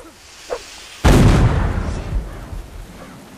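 A single loud video-game cannon blast booms suddenly, followed by a rumbling decay that fades over a couple of seconds.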